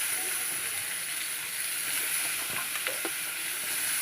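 Meat frying and being stirred in a thick spice masala, giving a steady close sizzle with a few soft scrapes and taps near the end. No one speaks.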